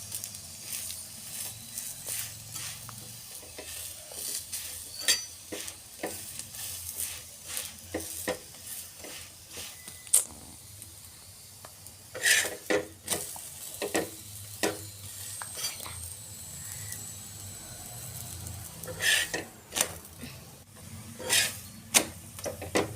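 Aloo paratha cooks on a pan with a soft, low sizzle, broken by scattered scraping and tapping as it is handled and turned, faint and close, with no speech.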